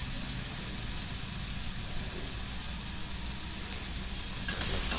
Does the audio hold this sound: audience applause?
no